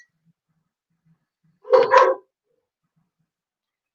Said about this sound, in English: Don't mind the dog in the background.